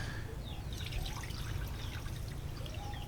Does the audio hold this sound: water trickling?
yes